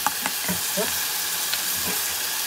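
Onions fry in oil with salt and turmeric, producing a steady close hiss and sizzle. A few soft clinks from a spoon stirring the pan come through briefly.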